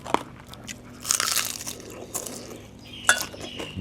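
Crisp crunch of a bite into fried Thai mackerel (pla thu) served with curry, with a few sharp crackles near and close, spaced between quieter chewing moments.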